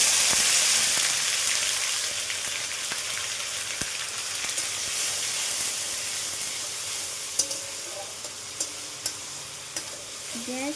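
Grated tomato goes into a hot pan of spice mix for vegetarian Bengali matar ghugni. A loud hiss and sizzle bursts up at first, then settles into a steady fry, broken by a few scraping stirs toward the end.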